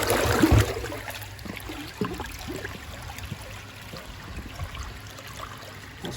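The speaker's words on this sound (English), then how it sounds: "Make sure the water is clear coming out of the pipe" Water runs out of a pipe while a pool filter drain is flushed, a soft steady trickle and splash after a brief louder burst at the start, with no talking.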